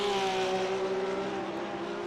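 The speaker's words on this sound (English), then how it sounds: "The sound that you just heard, that was the Team Bernhard car going past" A Team Bernhard race car on the Nordschleife in a 24-hour esports racing game passes by with a steady engine drone that holds a high tone and slowly sinks in pitch as it goes past, fairly loud throughout.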